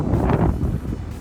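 Strong wind buffets the microphone on a beach in Fuerteventura, a loud, rumbling gust that swells and then eases slightly over a brief moment.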